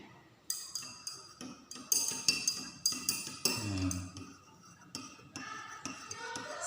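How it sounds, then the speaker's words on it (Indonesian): A spoon stirs an alcohol and betel-leaf hand sanitizer mixture in a glass container, giving a run of quick, close clinks and taps against the glass, steady and fairly quiet. "Kemudian kita aduk lagi."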